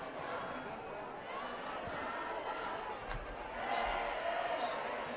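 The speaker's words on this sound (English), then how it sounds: "the song that's being sung by the Homestead crowd right now" A home crowd at a Homestead high school football game sings a song together, a broad steady roar carrying across the stands, with a swell near the end and commentators talking over it.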